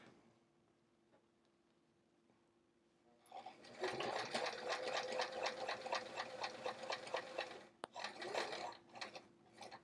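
A sewing machine runs in a steady rapid stitching rhythm while back tacking the inside pocket of a travel art folio, starting after a few seconds of quiet and continuing with a brief pause near the end.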